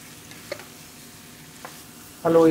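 Lamb pieces frying in their own rendered fat are stirred in a hot pan, a low sizzle with a couple of light utensil taps, then a sudden loud burst of sizzling at the end.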